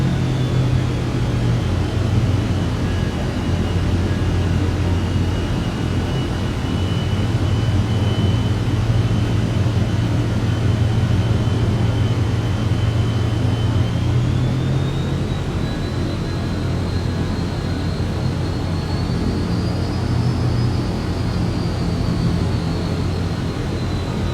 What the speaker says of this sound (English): One more time, landing gears down, flaps are full, we're clear to land.